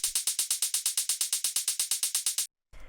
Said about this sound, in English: After that, we have the closed hi-hat